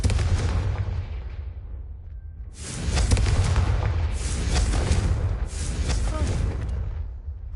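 Fiery Confringo spell blasts in the video game Hogwarts Legacy, several loud booming bursts in quick succession with crackling, rumbling tails over a constant low game ambience.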